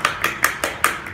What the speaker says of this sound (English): During awarding, they get one clap.